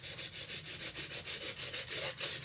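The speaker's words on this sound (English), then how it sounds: "I'm gonna scuff it harder." Rhythmic hand scuffing of an acrylic-painted wooden treasure box, steady back-and-forth rubbing strokes about five per second, close and fairly quiet with no talk.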